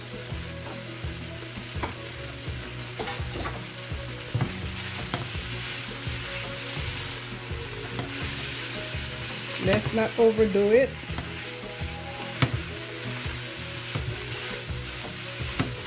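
Rice noodles being stir-fried in a pot for a vegetarian Pad Thai, with steady sizzling and repeated scraping stirs, a burst of louder stirring midway, and a brief remark spoken over it.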